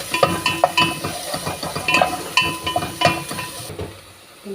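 Onions frying in oil in a pan while being stirred, with a steady sizzle under repeated clinks and scrapes of a spoon against the pan, close and fairly loud, fading at the end.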